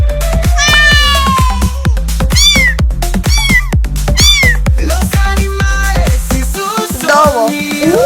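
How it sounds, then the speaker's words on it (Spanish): A cat meows repeatedly, loud and close, with several drawn-out rising and falling calls over a bouncy children's song backing track with steady drums. "Gato."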